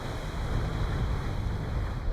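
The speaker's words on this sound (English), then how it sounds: "The mighty Atlantic Ocean." Atlantic Ocean surf and strong wind at the Irish sea cliffs make a continuous broad roar and buffeting rumble, steady and loud throughout, with no voices.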